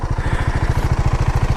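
BMW G310R motorcycle engine fitted with a full Akrapovic exhaust system, idling close by with a steady, evenly pulsing single-cylinder thump and light mechanical clatter.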